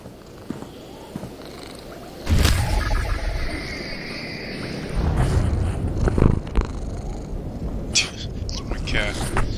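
A pet cat purring close by, a low rumbling purr running steadily beneath bursts of louder background game sound and noise.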